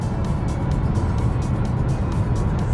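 A truck hauls a wind turbine blade along a highway between Vijayapura and Nashik, an escort car with blinkers trailing it: steady, close road roar and engine rumble with no gaps, and no one talking.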